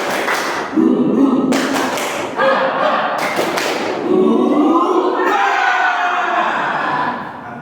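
A group of teachers in training performs a tepuk semangat, a rhythmic clapping chant: bursts of group clapping and thumps alternate with chanted voices in several loud phrases.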